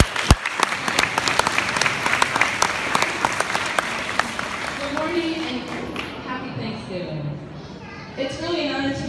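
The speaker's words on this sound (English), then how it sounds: "Give her a nice round of applause." An audience at a Thanksgiving speech in Vietnam claps loudly for several seconds, the applause thinning out and fading as children's voices and talking take over near the end.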